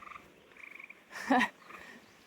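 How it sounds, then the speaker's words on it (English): A tree frog calls with a short, loud burst of croaking in an outdoor night setting, a second frog present, faint chirping around it. "That tree frog."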